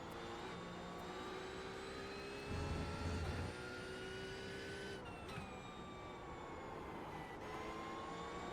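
Porsche GT3 race car engine in the iRacing simulator at Spa, a steady high-pitched drone of revs rising and shifting, with a brief low rumble partway through, continuous and fairly faint.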